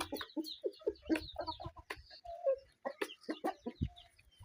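Bahama chickens on a farm clucking close by in quick, uneven bursts, several birds calling over one another with short pauses between.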